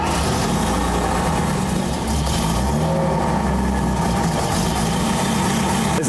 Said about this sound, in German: Der Klang des Motors ist ein ganz besonderer Genuss.